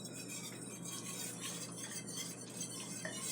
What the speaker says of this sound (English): So yeah, there's a lot of this with whisking